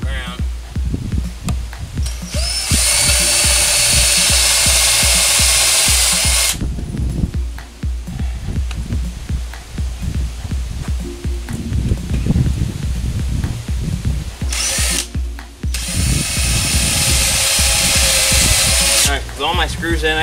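Power drill driving screws into a carport frame built from Harbor Freight leftovers: two long whirring bursts with a rattling, stuttering stretch between them as screws bite, close and loud.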